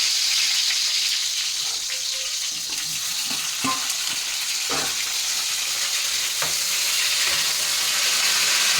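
Eggplants fry in hot oil for gutti vankaya curry: a loud, steady sizzle fills the whole stretch, with occasional pops and spatters and no talking.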